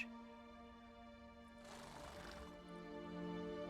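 Roach, the horse in the video game The Witcher 3, whinnies once in a short mid-loud burst over a steady hum of game music.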